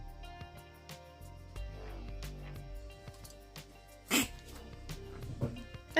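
A dog gives a single sharp sneeze partway through, standing out from a quiet indoor room with faint rustling and small taps around it.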